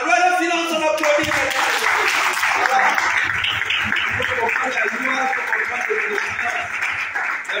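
An audience applauds at a live session on finance law, a sustained burst of clapping that starts after a moment of speech and continues steadily, mixed with some voices.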